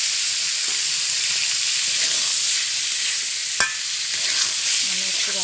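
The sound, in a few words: chicken meat added to hot oil, sizzling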